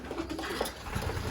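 Soft cooing of racing pigeons inside a loft, a brief low murmur of a few calls heard up close and quietly, with no voices.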